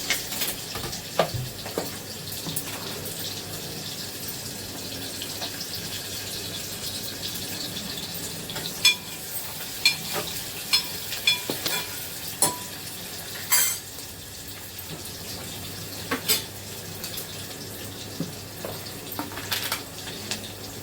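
Onion frying in oil in a pan while prawns are cooked, a steady soft sizzle with scattered clinks and stirring clatters from a utensil, no talking.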